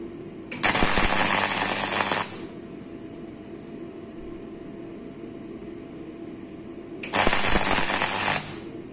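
MIG welder running on sheet metal, two loud bursts of crackling, sizzling arc, each about one to two seconds long, separated by a longer stretch of quiet background hum.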